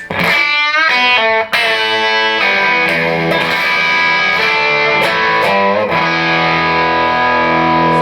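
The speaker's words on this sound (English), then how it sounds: "the bridge pickup gives you a little bit more bite" A Gibson Les Paul Custom electric guitar on its bridge pickup plays bright, biting distorted chords and notes. The sound is loud and up close, and it rings out steadily with no talking.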